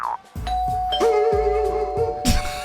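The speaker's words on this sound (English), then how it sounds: "The actual doorbell" A doorbell chimes repeatedly, several bright ding-dong tones ringing out clearly and alone, with sustained harmonic tails between strikes.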